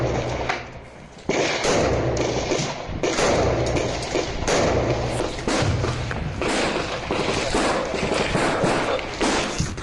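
Gunfire from soldiers laying down cover fire in battle around Bakhmut: repeated heavy thumping shots and booms, some near and loud, over a dense rumbling background.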